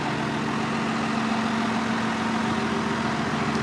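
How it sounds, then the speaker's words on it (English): A 1978 K60 4x4 pickup's 12-valve Cummins diesel engine idles with a steady low rumble, constant and close, with no voices. "K60 4x4 with a uh, 12 valve Cummins"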